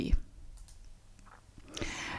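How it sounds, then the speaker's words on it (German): A single computer mouse click on an OK button during statistics software work, a faint short tick heard amid quiet room tone and soft breathy sounds. "Ich klicke dann einmal auf OK."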